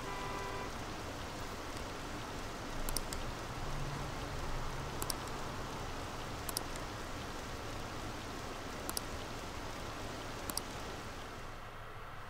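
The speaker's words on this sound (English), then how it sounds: "It's a rainy day." Steady rain falling in Persona 5 Royal, a continuous soft hiss of rainfall with faint sharp ticks recurring every couple of seconds, with no voices.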